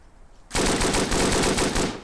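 Machine gun fire in the First World War shooter Verdun: after a quiet half-second, a loud, sustained burst of rapid automatic shots rattles on without pause to the end.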